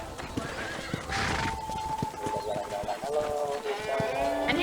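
Horses at a ranch corral in the Red Dead Redemption video game: steady hoof clip-clops and several drawn-out neighs and whinnies over a busy outdoor ambience, fairly close and continuous.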